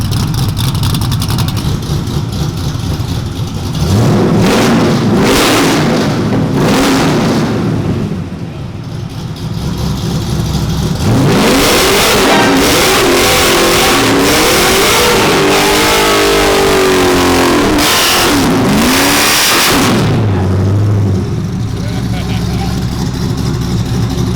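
A 669-horsepower V8 in a Chevy C10 squarebody work truck revs hard several times, rising and falling in loud, close bursts over a rumbling idle, with people talking faintly underneath.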